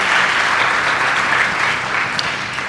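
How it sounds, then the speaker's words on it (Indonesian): A church congregation claps for Jesus during a sermon, a loud, steady wash of applause filling the room throughout with no break. "Kasih dulu tepuk tangan bagi Tuhan Yesus."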